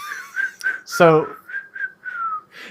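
A whistle at a single steady pitch, blown in a series of short toots and one longer held note, cut across by a brief spoken word partway through.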